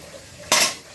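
A lid clanks down onto a cooking pot of simmering prawn malai curry, one sharp metallic hit that rings briefly.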